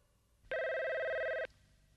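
A cartoon telephone gives one loud, bright electronic ring that lasts about a second, then cuts off sharply into a quiet background.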